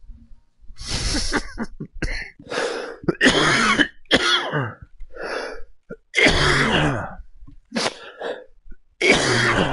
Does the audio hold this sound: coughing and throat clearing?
yes